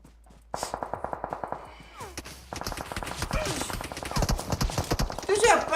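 Gunfire in the video game PUBG: a quick regular string of shots, then denser overlapping bursts of firing that grow louder, mixed with game noise and voices talking over it.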